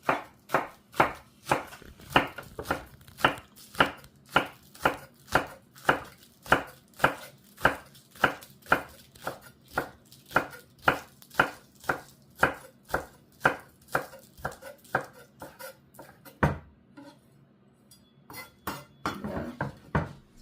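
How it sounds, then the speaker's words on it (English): A knife chops two green onions on a cutting board with steady, rapid, evenly spaced thuds close by, pausing briefly near the end before a few more scattered cuts; no one speaks. "2 green onion here. So I'll just cut this here and cut this"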